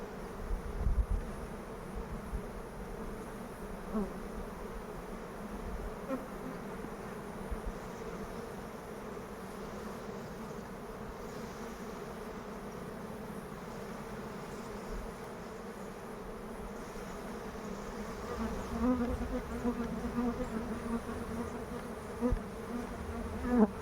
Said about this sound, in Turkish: Arının içinde gelen uğultu da ana arının olmadığını gösteriyor bizlere